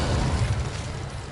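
A Revelio revealing spell cast in the video game Hogwarts Legacy, a single low, rumbling magical pulse that swells loud at once and stays heavy through the whole brief moment before easing slightly.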